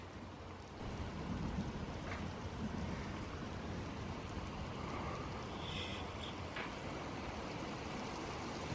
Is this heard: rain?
yes